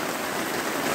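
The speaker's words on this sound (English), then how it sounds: "it's raining hard" Heavy rain falls in a constant, dense hiss of drops, with no break or rhythm across the brief moment and no talking.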